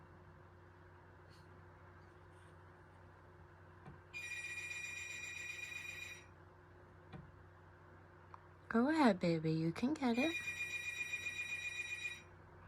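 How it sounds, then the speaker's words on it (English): A house phone rings in the background of a home with reptiles, two bursts of electronic trilling a few seconds apart, the second louder and clashing with another warbling tone, while a person speaks softly. "Sorry about the phone ringing in the background"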